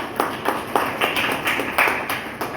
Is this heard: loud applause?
yes